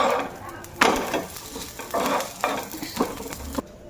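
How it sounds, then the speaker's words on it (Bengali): A paratha fries in a pan with a steady sizzle, broken by several loud scraping bursts of a spatula against the pan, close up with a little background talk. "পরোটাটা আগে ভালো করে ভাজা নিলাম।"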